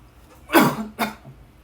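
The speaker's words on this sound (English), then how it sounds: "I guess I had a cough" One person coughs twice in quick succession, a strong harsh burst followed by a shorter second cough, close to the microphone in an otherwise quiet room.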